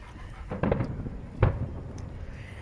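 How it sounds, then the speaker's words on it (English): Fireworks at a celebration over Key Biscayne pop and thud in the distance, two moderately loud bursts standing out against a steady low outdoor rumble. "Key Biscayne is apparently having a fireworks celebration."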